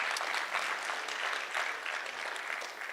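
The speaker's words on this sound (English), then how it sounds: "So a round of applause for them to show our appreciation." An audience claps steadily throughout at a livestock presentation at Lakeland College, Canada, a dense patter of many hands at moderate volume with no voices standing out.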